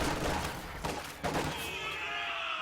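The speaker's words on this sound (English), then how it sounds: "MG slightly repositions, may get a burst off here." A machine gun in Company of Heroes 2 fires short, crackling bursts amid battlefield noise, with a couple of sharp thumps and a hissing tail as the firing fades.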